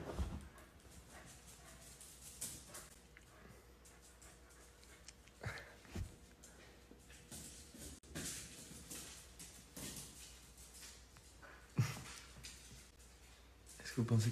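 A dog pants, snuffles and whimpers up close amid rustling and thumps, while a person talks throughout.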